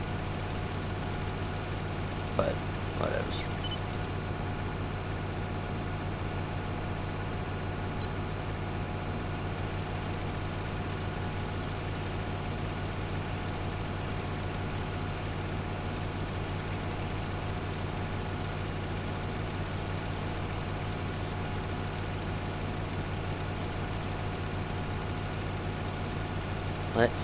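A tractor engine in the Farming Simulator 13 video game, out fertilizing a field, drones at a steady, even pitch for the whole stretch while someone talks briefly over it.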